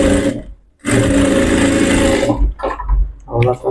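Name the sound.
sewing machine stitching a blouse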